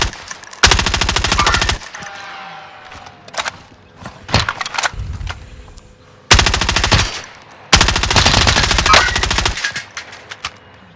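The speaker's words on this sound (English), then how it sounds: "there were still those people shooting at them" Gunfire in the Call of Duty: Modern Warfare video game, with several loud bursts of rapid automatic fire broken by shorter shots and quieter gaps full of game noise.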